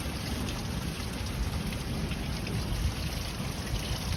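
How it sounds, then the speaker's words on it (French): Steady, dense rain hisses without pause, a broad continuous wash of noise with no voices. "Il pleut tellement encore"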